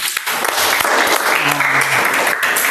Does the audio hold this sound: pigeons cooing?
no